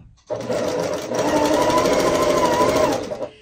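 Sewing machine stitching star quilt blocks made from scraps, a single close, loud burst of fast rhythmic needle chatter that starts abruptly and runs for about three seconds before slowing to a stop.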